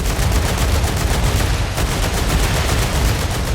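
Gun firing in the video game StarRupture: continuous rapid automatic bursts, loud and close, a dense unbroken rattle of shots with heavy low thump throughout.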